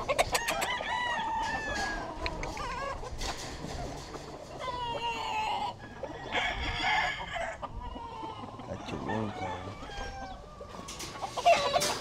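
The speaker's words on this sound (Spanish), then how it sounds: "Aquí viene siendo el papá de él, un gallo ya de como 10 años" A ten-year-old breeding rooster crows and clucks in repeated bursts nearby, while other fowl cluck and call around it and faint voices talk in the background.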